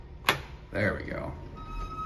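Relays in a 1960s Reliance hydraulic elevator snap with one sharp click, followed by a brief louder mechanical clatter and then a steady hum. A voice speaks over part of it.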